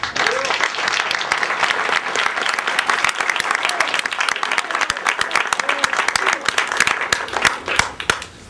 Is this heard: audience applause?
yes